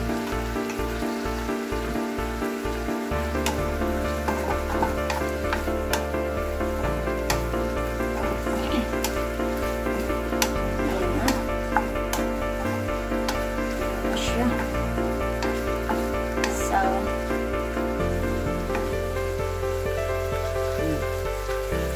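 Ground pork sisig fries in a pan with soy sauce, giving a steady, dense sizzle that crackles continuously and close by throughout, with faint voices possible underneath.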